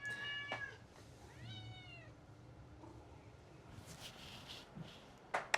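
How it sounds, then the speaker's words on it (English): A pet cat meows loudly and insistently while dinner is being prepared, several drawn-out rising cries close by in a quiet kitchen, with faint household clatter and a sharp clink near the end. "keeps screaming at me off camera because I'm making her dinner right now"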